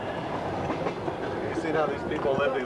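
A train rolls steadily along the rails on the long journey to Kharkov in Ukraine, a continuous rumbling clatter close by, with faint voices underneath.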